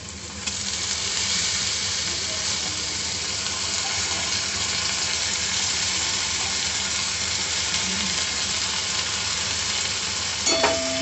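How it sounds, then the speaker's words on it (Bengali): Soaked Gobindobhog rice stir-frying with spices in a pan gives a continuous, dense sizzle with steady stirring, close up and without talk. "মশলার সাথে চাল একটু কষিয়ে নেব"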